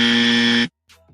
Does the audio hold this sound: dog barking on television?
no